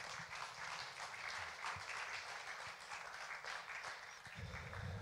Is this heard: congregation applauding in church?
yes